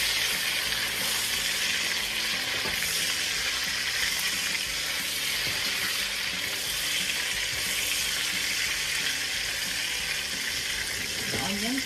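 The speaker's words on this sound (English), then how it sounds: "Then we're ready to saute." Pork ribs sautéing in a pan after browning on both sides, giving a loud, dense, continuous sizzle and crackle close up with light stirring noises, steady from start to finish without speech.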